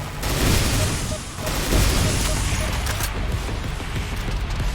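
Exploding turrets and gunfire in a Doom mod shooter, with dense, loud, overlapping blasts and rapid shots crackling continuously throughout, under a constant background roar.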